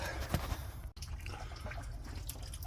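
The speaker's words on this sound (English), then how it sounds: "I'm draining the coolant again." Coolant draining from a Ford 7.3 IDI diesel engine during a water pump replacement, a steady close trickle and dribble of liquid with a brief cutoff near the start before the flow carries on.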